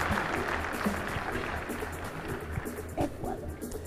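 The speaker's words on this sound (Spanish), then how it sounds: "Un aplauso para la representante del Salvador" An audience at a pageant costume parade applauds the contestant from El Salvador, a broad, continuous wash of clapping with scattered sharper claps and a few voices mixed in.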